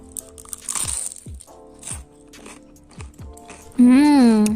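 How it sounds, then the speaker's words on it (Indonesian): Crunchy bites into a freshly fried Indonesian street snack, several crisp crackling crunches spaced through the moment, close to the mic, with a person's voice breaking in at the end. "Luarnya juga renyah, kriuk-kriuk."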